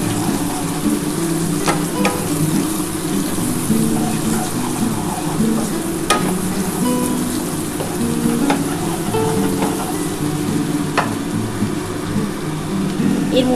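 Potatoes sizzle steadily in hot oil for a pui shak chorchori, giving a continuous crackling fry with occasional stirring clicks and pops, close and even throughout, with no talking.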